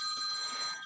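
A telephone rings, a steady electronic tone held briefly at moderate volume in a quiet room with no speech.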